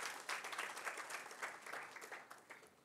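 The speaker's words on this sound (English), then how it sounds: "let's give a big round of applause to all of us for presenting here" Applause from the audience at a business event for women entrepreneurs, a dense patter of many hands clapping at moderate distance, steady and fairly quiet, with no voices over it.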